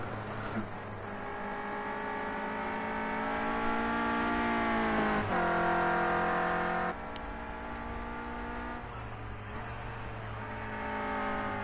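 Renault Clio Cup race cars lap Brands Hatch, a steady engine drone rising and falling through the gears, with a sharp shift change midway and a nearer pass toward the end, loud and without talk.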